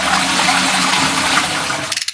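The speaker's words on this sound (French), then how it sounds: "vide le réservoir de chasse" Toilet cistern emptying during toilet removal, a loud continuous rush of flushing water that drains away and ends in a few gurgling spurts.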